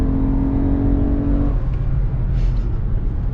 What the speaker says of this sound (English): It makes so much noise in the back from the exhaust.